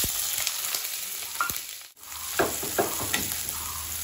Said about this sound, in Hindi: तो अभी डालूंगा प्याज और हरा मिर्च।